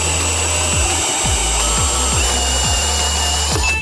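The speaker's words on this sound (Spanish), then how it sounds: "este accesorio para cortar lámina metálica" Sheet metal being cut by a cutter attachment mounted on a power drill, a loud continuous high-pitched whine with a grinding metallic rasp and a regular low thudding pulse roughly every half second.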